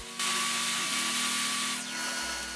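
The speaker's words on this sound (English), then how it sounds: "I brought it over to my table saw and cleaned up the side" A table saw trims the side of a wooden divider for a wall tool organizer, a loud steady whining cut with a strong motor hum that shifts slightly as the board feeds through, no talk.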